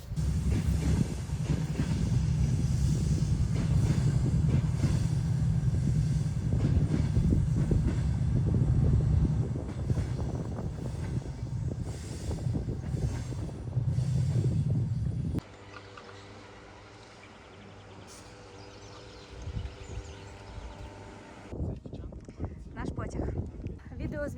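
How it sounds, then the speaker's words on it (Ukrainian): Passenger train on the Vorokhta to Yaremche line in the Carpathians, a steady loud low rumble of wheels and rails that rolls on for about fifteen seconds before dropping to quieter ambient noise. "А ось е, потяг, те про що я говорила."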